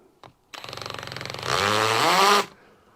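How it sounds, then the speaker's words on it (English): A power drill set to hammer mode, drilling into wood, whirs with a rapid pulsing hammer rattle, then revs up into a louder, higher grinding whine before stopping abruptly. "Drill's on hammer for some strange reason."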